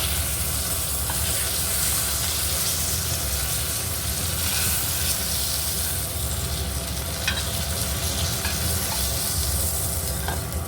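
Continuous loud sizzling and bubbling of sugar frying in hot oil, steady throughout with faint occasional clicks.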